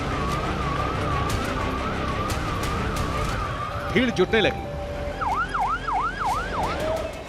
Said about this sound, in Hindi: अचानक पूरे इलाके में सायरन गूंजने लगे।